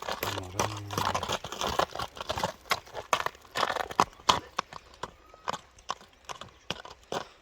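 A horse being ridden, hooves clip-clopping in an uneven walking rhythm of close thuds and crunches over ground, with faint background noise.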